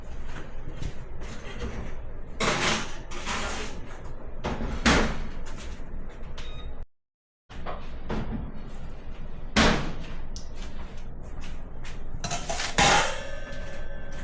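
Scones for the freezer go into a home oven in a kitchen, with pans and trays clattering nearby. The oven door thuds and bangs several times, broken by a brief silent gap, and no one speaks.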